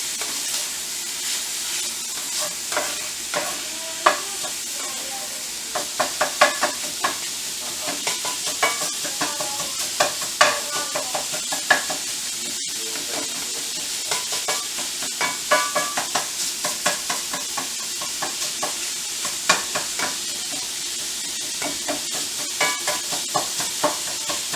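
Minced meat for lasagna fries in a hot pan, sizzling steadily while a utensil scrapes and chops through it in frequent irregular taps, close and continuous.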